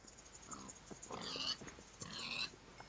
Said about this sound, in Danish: der er mange grise